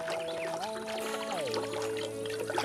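Cartoon water pours onto flowers from a watering can in a brief, continuous trickle, mixed with whimsical sliding tones as the flowers are watered on a hot day.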